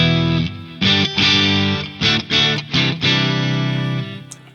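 Distorted electric guitar through a Friedman IR-X pedal using a greenback speaker cabinet impulse response, playing a few loud sustained chords separated by short choppy stabs, ending with a brief high squeak.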